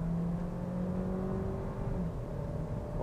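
A VW Golf Variant accelerates through its gears in manual mode, the engine hum rising in pitch, then dropping at a shift before climbing again, heard steadily from inside the car without talk.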